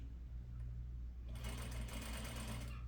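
A sewing machine stitches a Peter Pan collar with a steady low motor hum that starts slowly and then speeds into a brisk, continuous run of close mechanical stitching.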